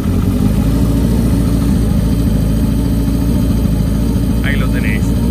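A Honda CB 400 Four motorcycle engine idles nearby throughout, a steady low continuous rumble with a brief higher-pitched rev near the end.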